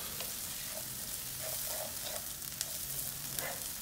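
Homemade marinara tomato sauce stirred in a pot, a soft continuous bubbling sizzle with faint spoon scrapes, quiet and close with no talking.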